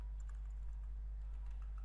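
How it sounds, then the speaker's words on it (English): Steady, soft typing on a computer keyboard while filling in a web form, with continuous light key clicks over a constant low electrical hum and no voices. "then just changing the email and typing"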